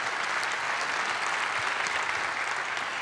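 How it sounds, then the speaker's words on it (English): Sustained audience applause, dense and steady from start to finish, with many hands clapping at once at a fairly even, full level and no clear voices rising above it. "please applaud for them."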